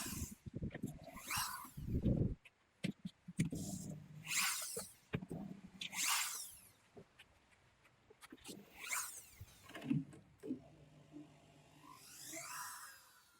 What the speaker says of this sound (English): Remove the bolts that fixing machine onto pallet.